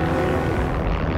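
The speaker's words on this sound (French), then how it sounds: "d'autres avions, remplis eux de soldats bien réels, s'approchent des côtes normandes" World War II aircraft flying toward the Normandy coast before dawn on D-Day, carrying paratroopers: a steady, loud, dense engine drone that holds unchanged throughout with no voices.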